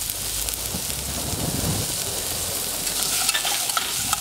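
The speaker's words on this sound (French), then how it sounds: "on fait suer les échalotes" Shallots sweat in a hot pan over a large burner with a steady, gentle frying hiss and occasional stirring, with no voices.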